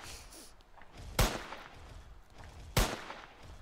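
Gunshots in the Roblox Squid Game video game: two loud, sharp cracks about a second and a half apart, standing out over a low, busy game background.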